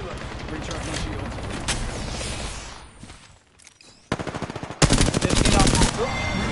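Rapid automatic gunfire in an Apex Legends match, loud bursts that pause briefly around mid-clip and then return as dense, close, sharp volleys.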